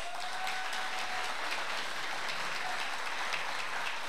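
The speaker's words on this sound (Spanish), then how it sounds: "para quien pido un fuerte aplauso" Steady applause from an audience fills the space, an even wash of many hands clapping at moderate volume without pause.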